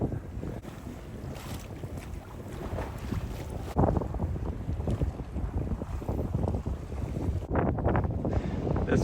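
A sailboat sails out of a bay off Senegal under sail alone, without its motor. Steady wind rush and buffeting against the microphone run throughout, with water and wave wash beneath and no talking.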